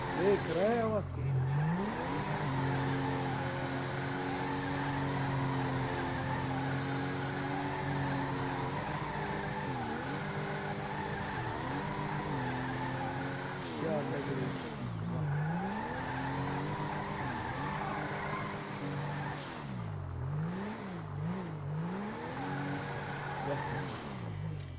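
A Toyota Corolla's engine revs in the video game GTA V, rising and falling in repeated surges over a steady drone. The sound stays loud and continuous for the whole stretch, with no talk over it.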